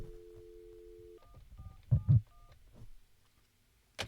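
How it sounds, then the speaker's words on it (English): A phone keypad gives a long steady dial tone, then a quick run of short beeps as digits are pressed, quiet and close, with a couple of soft thumps and a sharp click at the end. "pull out the phone and see if you can identify who I'm dialing"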